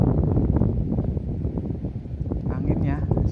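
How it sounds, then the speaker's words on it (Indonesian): Strong wind buffeting a river mouth during fishing at high tide after rain, a steady roaring rush across the whole stretch, with a voice speaking over it. "Anginnya semakin kesini semakin kencang bosku"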